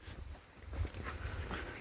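A dog whimpers and pants close by in a quiet outdoor setting, giving a few soft uneven whines and breaths over a low rumble, with no talking.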